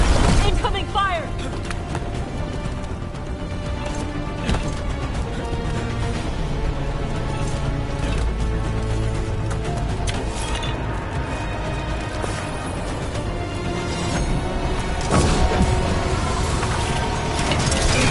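Cannon fire explosions crash and boom repeatedly amid clanking battle mechanisms in the video game Dragon Age: The Veilguard, with loud continuous combat noise and characters shouting over it.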